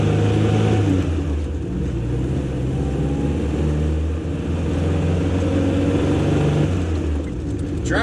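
Triumph Spitfire fitted with a new distributor, driven on the street: a steady mid-pitched engine drone with rumbling low harmonics and slight pitch shifts as it runs, with no talk.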